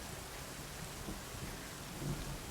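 A rain shower with thunder: faint, steady rainfall hiss with low rumbling beneath, heard from a distance and without voices.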